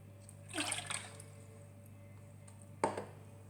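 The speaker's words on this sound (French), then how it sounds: "je commence par mélanger de l'eau" Water being poured into a MicroCook pitcher while making choux pastry, a short splashing pour followed by a second brief splash, quiet with a steady background hum.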